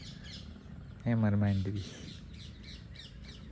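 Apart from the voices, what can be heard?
parrots calling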